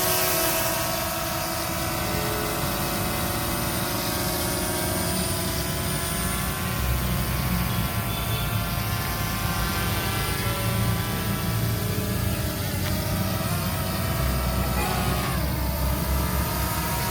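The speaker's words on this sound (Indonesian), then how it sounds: "Drone sudah memiliki brushless motor, bisa dilipat, sangat simpel, bisa dibawa kemana-mana guys." Folding drone with brushless motors flying over a city, a loud constant high-pitched whine with steady tonal hum throughout and slight pitch shifts as it maneuvers.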